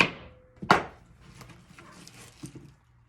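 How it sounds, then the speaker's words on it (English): A knife roughly chops a whole head of cauliflower on a board, with a few close, sharp cuts early and then softer, scattered knocks, no voices. "we're just giving it a rough chop because we're gonna break it up in the skillet"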